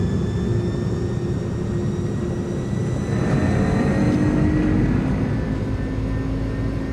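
Jet engines of an iniBuilds A300 in Microsoft Flight Simulator spool up for takeoff, a steady loud roar and whine that swells and brightens partway through, with no voices.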